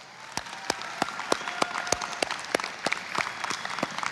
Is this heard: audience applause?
yes